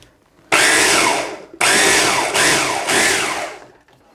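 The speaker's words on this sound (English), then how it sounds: "all we're going to do is we're just going to give it a couple of blitzes and it's done" A blender blitzes red onion chutney with cumin seeds in three loud whirring pulses, each a harsh motor roar, the first about a second long and the next two in quick succession, then it cuts to quiet.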